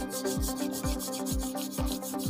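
A brush scrubs back and forth around the gear lever seal area of a CD-70 motorcycle engine in quick, regular strokes, a close, steady rasping rhythm with no voices.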